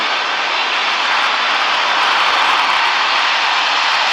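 Steady airplane engine roar in the PTS flight game after landing, loud and continuous with a broad whooshing hiss, close, no talking.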